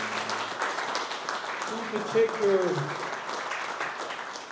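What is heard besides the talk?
applause at awards gala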